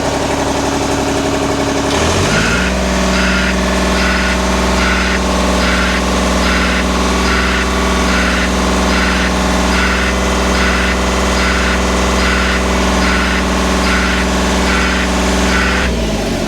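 A tree trimmer engine runs steadily in slow mode, a loud, even mechanical drone that keeps going without revving, heard close up and alone for most of its length.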